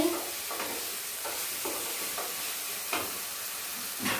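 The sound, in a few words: masala and potatoes sautéing in a pan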